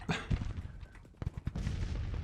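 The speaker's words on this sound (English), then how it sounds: "Now, are we firing on the cavalry? Come on, Mississippi Riflemen." Rifle volley gunfire in the Grand Tactician Civil War strategy game, Mississippi riflemen firing on cavalry, several sharp overlapping shots in bursts over a rumbling battle din, no voices.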